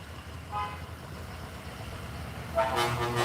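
Car horn honking on a street, two short toots, the first brief and lighter, the second louder and longer near the end, over low traffic rumble.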